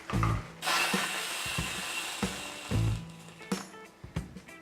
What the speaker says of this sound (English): you can't have a hot chocolate without some aerosol cream.